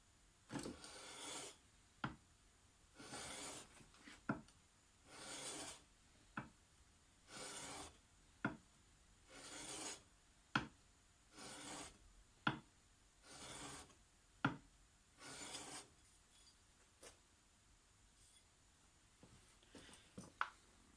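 A chisel's front edge is honed on sharpening stones of successive grits, giving a steady run of rhythmic rasping strokes, roughly one per second, each ending in a sharp scrape, close and fairly quiet with no voices.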